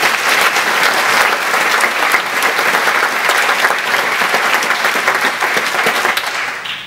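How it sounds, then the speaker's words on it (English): Sustained, loud applause from a crowd at a live presentation, steady clapping throughout that tapers slightly at the very end. "So please give him a round of applause."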